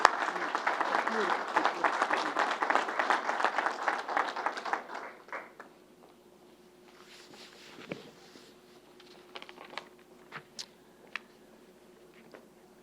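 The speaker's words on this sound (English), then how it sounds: "So for them, they need a round of applause as well." An audience claps in a sustained round of applause at a vaccination event at Belmont Park, dense and loud for about five seconds before fading into scattered claps and room noise.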